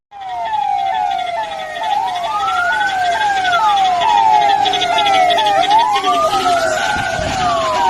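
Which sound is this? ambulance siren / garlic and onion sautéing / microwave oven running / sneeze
ambulance siren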